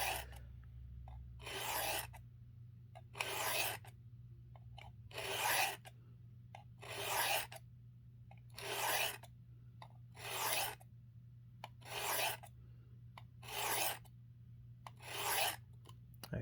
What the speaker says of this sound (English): We're just going to come through here. I usually do maybe 10 to 15 passes.